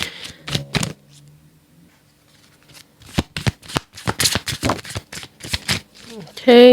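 Tarot cards shuffled by hand in short bursts, crisp riffling slaps that come in quick clusters with a pause between them, close and clear, while someone talks.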